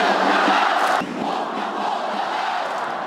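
Ulsan football fans jeering coach Hong Myung-bo before a match, a massed stadium crowd roaring in one sustained, loud voice that briefly drops and then carries on at a slightly lower level.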